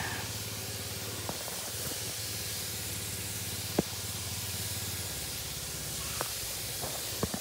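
Pesticide spray hisses steadily from a sprayer onto bean plants and fruit in a rainy-season garden, a faint continuous mist under a low pump hum with occasional clicks.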